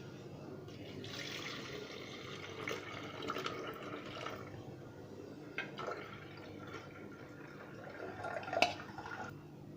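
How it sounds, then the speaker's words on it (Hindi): Peach pieces, lemon juice, water and sugar syrup are poured from a cooking pot into a blender, a faint, steady liquid trickle and drip with a few light splashes and knocks, heard alone without talk. "हाणे इहो असां विझंदासीं मिक्सचर ब्लेंडर में।"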